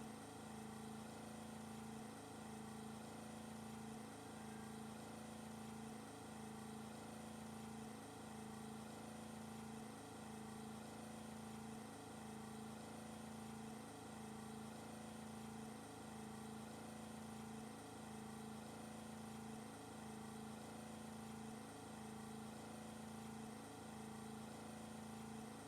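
A boat engine running in Russian Fishing 4, a steady low looping drone with a faint regular pulse, constant and fairly quiet throughout.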